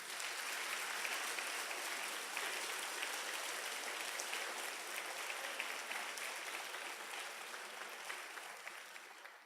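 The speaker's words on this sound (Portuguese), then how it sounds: "Vou dar um aplauso lindo para o Senhor." A church congregation claps in praise, steady crowded applause filling the room at moderate distance and fading slightly toward the end.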